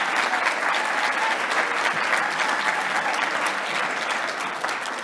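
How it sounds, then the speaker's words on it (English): An audience at a business forum claps for a woman on stage, a full, sustained round of applause that stays dense and even, with no speech on top. "So, round of applause for Nancy as well."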